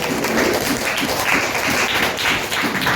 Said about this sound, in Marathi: सिद्धी मॅडम आणि विशाखा मॅडम यांच्यासाठी जोरदार टाळ्या